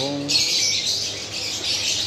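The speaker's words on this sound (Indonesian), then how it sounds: "burung." Birds squawking inside an aquarium and pet shop, a harsh, bright, sustained squawk that starts abruptly and continues, with a voice briefly heard at the start.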